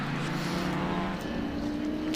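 A rally car built by Dave Ryan of Rare Spares, previously run in Targa in Mexico, drones past on a regularity tribute event, with a steady, loud engine note that holds across the whole pass.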